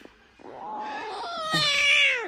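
Jaguar cubs give a rising, drawn-out mewing cry, close and fairly loud, with no talking.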